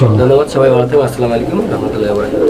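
Lahori Sirazi pigeons at a pigeon sale coo loudly and close by, in low, throaty, rolling calls that blend with a voice talking nearby.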